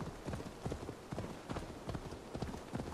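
A horse gallops in the video game Assassin's Creed Valhalla, its hoofbeats a steady rapid clip-clop rhythm, close and continuous with no talk over it.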